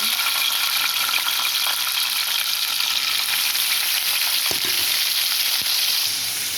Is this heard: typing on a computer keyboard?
no